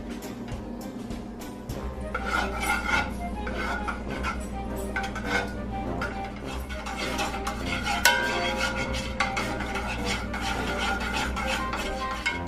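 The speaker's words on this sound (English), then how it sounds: "stir your butter till it dissolves in the pan" Butter melting in a pan over low to medium heat while being stirred for Rice Krispies treats gives a steady scraping stir with faint sizzling, close and continuous without speech.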